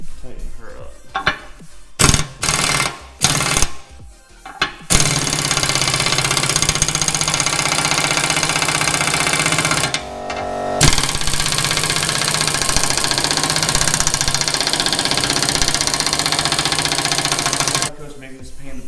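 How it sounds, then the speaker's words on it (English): An impact wrench tightens the bolt holding a 37-inch full-size spare tire. A few short bursts and clatter come first, then a loud, continuous close-up rattling run that lasts over ten seconds with one brief break. "So now I'm gonna use this impact to tighten her up."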